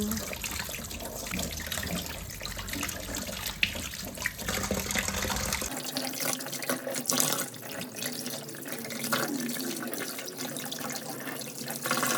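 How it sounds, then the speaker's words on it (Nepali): Fish being washed under a running kitchen tap, a steady splashing rush of water with handling and dripping sounds, close and continuous throughout. "अब म माछाहरू पखाल्छु।"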